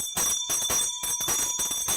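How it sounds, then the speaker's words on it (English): A bell rings repeatedly in quick bursts, its bright metallic tones sustained over a steady high whine, with short gaps between strikes and no voices. "all that bell ringing"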